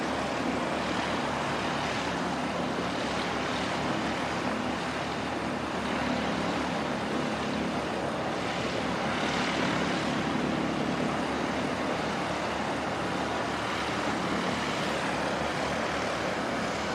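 An ATR turboprop airliner arriving from Wellington at Christchurch Airport, a steady broadband engine and wind roar that swells gently mid-way, distant and continuous with no talk.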